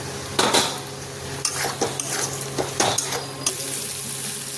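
Fried pointed gourd, potato and soybean pieces tipped into a pan, with several sharp metallic clatters of a utensil against the pan over a low background, no voices.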